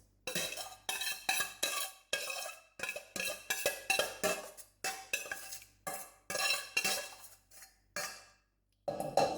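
Bolognese sauce being spread over a lasagne dish with a utensil, a series of close, short scraping and clinking strokes in an uneven rhythm, separated by brief quiet gaps.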